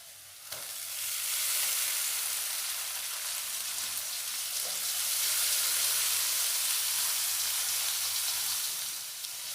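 Strips of capsicum and carrot tipped into onions already frying in a pan, a steady loud sizzle that starts right after a brief clatter and holds through the whole stretch.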